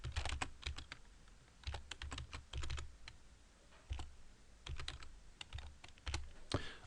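Bursts of rapid typing on a computer keyboard as keywords are entered, with close, clattering keystrokes in short runs separated by brief pauses and no voices.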